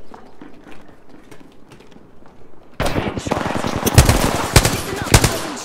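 Rapid automatic gunfire in a video game breaks out suddenly after quiet, low background noise, then continues as loud, close, sharp bursts with a few heavier reports until the end.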